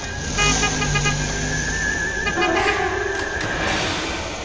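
Steady car engine hum with a tonal whine in an animated cartoon, a continuous close drone with brief higher chirps layered on top, no talking.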